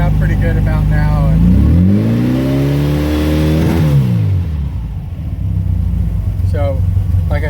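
A replica Porsche 718 RS-60 Spyder engine, warming up after a cold start, runs loud and close with a brief rise and fall in revs before settling to a steady idle, someone talking over it.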